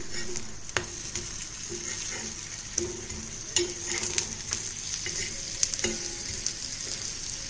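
Bottle gourd adai frying in oil on a pan, a steady close crackling sizzle running throughout with occasional sharp pops and clicks of a spatula, no voices.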